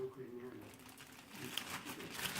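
Plastic wrap from an air fryer's packaging crinkles close by as it is handled and cut with scissors, a brief rustling crackle with a voice speaking over it.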